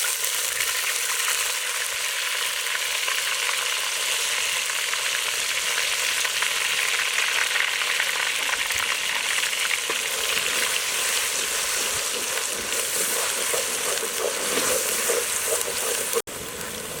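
Ground small-onion paste for chicken kulambu fries steadily in hot oil, a dense continuous sizzle with faint stirring scrapes, close and loud throughout and no talk, cutting out abruptly just before the end.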